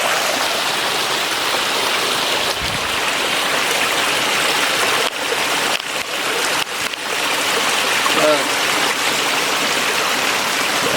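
Stream water flows inside a Jamaican cave as a continuous rushing hiss, with a few brief dips and soft knocks partway through and no talking.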